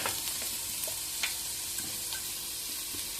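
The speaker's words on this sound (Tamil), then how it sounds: "கொத்தவரங்காய் தாளிக்க போகிறேன்." Steady crackling sizzle of mustard seeds, urad dal and cumin frying in hot oil for cluster beans, with sharp little pops scattered throughout.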